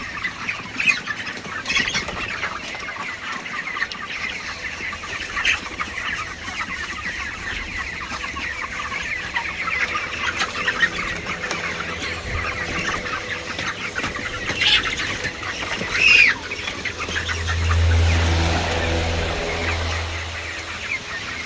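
Chickens in a hot poultry shed, broilers on finisher feed, squawk and cluck steadily throughout, a dense overlapping flock chorus close by with a brief louder burst near the end.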